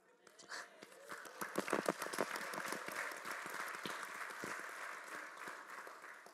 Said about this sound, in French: vous êtes sympa de m'applaudir